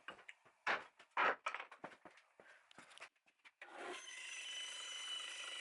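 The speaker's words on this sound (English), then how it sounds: "Now I took the pieces to the bandsaw and started cutting them out. This is a Wen 9-inch bandsaw." A Wen 9-inch bandsaw cuts pieces of oak pallet wood, starting with a series of short scraping, rubbing bursts and then settling into a steady, close, hissing whir as the blade runs through the wood.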